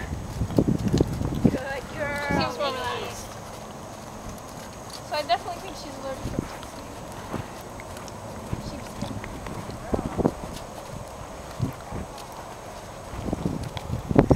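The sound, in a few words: horse walking while being ridden bareback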